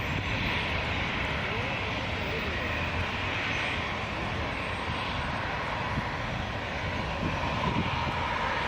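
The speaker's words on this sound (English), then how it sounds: "We got a wave from Air Canada 42, 777-200 to Delhi" An Air Canada Boeing 777-200 jet rumbles with a steady, continuous engine roar at Toronto Pearson at night, sustained and fairly loud from start to finish.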